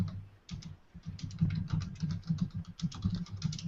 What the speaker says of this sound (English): typing a mile a minute